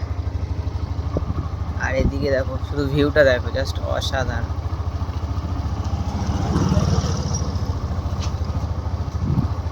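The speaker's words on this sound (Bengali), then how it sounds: "এক হাতে চালাচ্ছি আমি বাইকটা" A motorbike on a village road between flooded jute fields hums steadily close by throughout, with someone talking over the engine.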